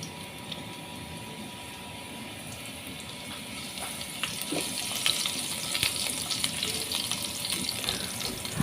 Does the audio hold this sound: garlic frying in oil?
yes